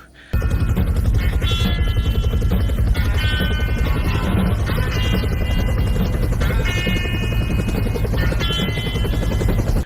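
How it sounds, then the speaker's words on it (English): A helicopter's rotor thumps loudly and steadily as it passes close overhead at a farm, with a continuous buzzing drone throughout. "There's that helicopter, if you guys can see."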